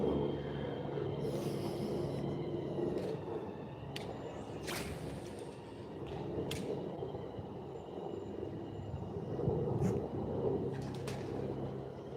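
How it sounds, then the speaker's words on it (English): Pigeons coo softly in the distance outdoors on a bass fishing outing, low repeated calls set in a steady rumble of background noise, with a few sharp clicks and knocks nearby. "there's your pigeons"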